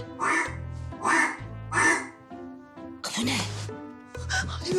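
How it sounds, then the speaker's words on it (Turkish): Loud, repeated duck-like quacking bursts, about five honks in quick succession, close and clear with no talking. "ördekler bastı"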